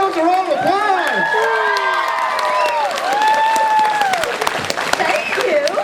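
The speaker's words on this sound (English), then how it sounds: "Give yourselves a round of applause." A crowd at a Galaxycon Q&A with Grace Van Dien breaks into loud, close applause, with energetic cheering and high shouts layered over the continuous clapping.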